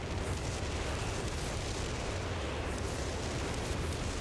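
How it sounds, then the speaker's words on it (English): A zeroing artillery barrage in Company of Heroes 3 on a winter map sends up a continuous roar of overlapping shell explosions. The rumble stays loud and dense throughout, with no clear gaps between impacts. "Zeroing artillery wipes that"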